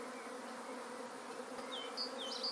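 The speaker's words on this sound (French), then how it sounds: "Ce flot d'abeilles continue à se déverser de la ruche" A swarm of honeybees pours out of their hive, making a steady, droning buzz of countless wings that holds at an even, moderate level, with a few brief higher chirps near the end.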